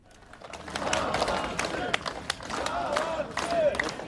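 A crowd outside a prison in Minsk greets freed detainees walking out of a grey metal door, with a steady murmur of voices, scattered clapping and shuffling footsteps close by, and people talking throughout.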